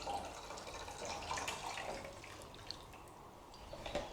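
Water mixed with dissolved descaling tablets pours into the tank of a Ninja Prestige Dualbrew CFN802UK coffee machine, a faint, steady trickle and splash that continues throughout without speech.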